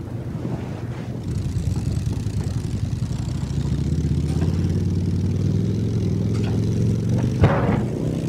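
Steady droning motorbike engine in Battlefield 1, rumbling continuously and slowly swelling in pitch and loudness as it rides, with wind-like noise over the top and one brief knock late on.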